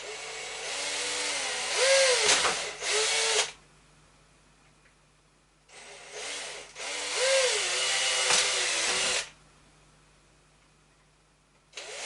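A power drill bores holes in a Traxxas TRX4 RC crawler kit, with two close whirring runs of a few seconds each that rise and dip in pitch under load, separated by near silence.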